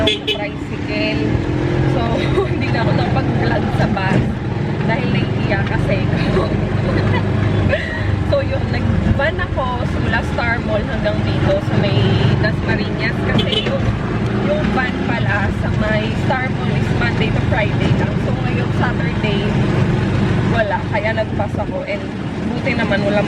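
A tricycle rides through city traffic at Halloween, its motor droning steadily throughout with passing vehicle noise and a constant road roar, a voice talking over it.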